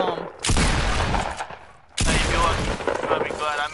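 Two loud bursts of gunfire in a PS4 shooter, each a dense crackling volley that starts abruptly and decays, separated by a short near-silent gap, close and dominant.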